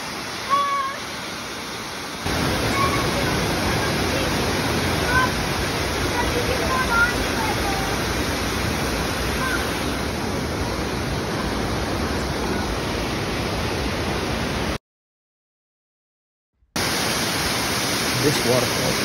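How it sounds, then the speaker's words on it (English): The waterfall at the top of Flume Gorge in New Hampshire gives a steady, broad rushing roar from close by, continuous throughout apart from a brief silent gap near the end. "This waterfall top of Flume Gorge seemed to have a rainbow every time we walked by."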